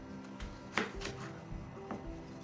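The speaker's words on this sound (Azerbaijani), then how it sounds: "Xırda doğrayacağıq soğanımızı." A knife finely chops an onion with a few sharp, spaced taps on a board, faint and close, with no talk.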